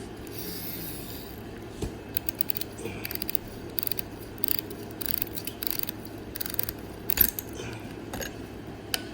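A Mast Lancer tattoo pen grip being removed: rapid, close ratcheting clicks and small mechanical rubbing from twisting the grip, steady and fairly quiet with no speech.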